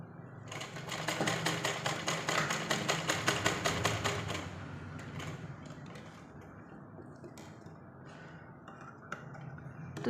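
A sewing machine stitches cloth with a rapid rhythmic clatter for about four seconds, then stops, leaving quiet handling sounds and a faint click or two.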